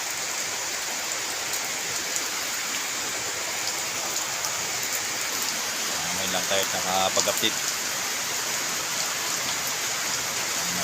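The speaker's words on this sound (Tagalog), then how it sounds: "Lakas pa ng ulan dito." Heavy rain falls steadily over rice fields, a dense constant hiss throughout, with someone talking briefly in the middle.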